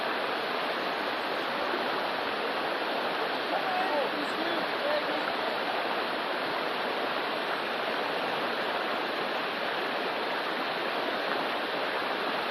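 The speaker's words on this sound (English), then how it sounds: "Water's pretty loud here" Loud, steady rushing of a stream in Sitka, Alaska, a dense broadband roar of flowing water filling the whole clip without letup.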